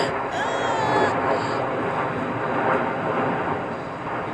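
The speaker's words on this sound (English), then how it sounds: "a really noisy plane going over me." A loud, broad roar of an airplane passing overhead fills the whole stretch, with faint whining tones early on.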